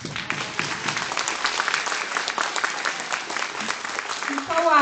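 An audience claps continuously for several seconds at a festive event honouring women dressed as witches, and a voice speaks briefly near the end.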